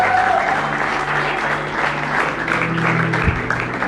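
A church congregation breaks into loud, sustained applause, steady rapid clapping filling the room with a low hum of voices underneath and one sharp thump near the end.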